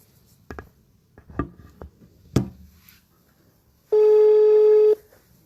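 A telephone call is placed: a handful of short dial presses or taps, then a single steady ringback tone lasting about a second, clear and fairly loud with no talk.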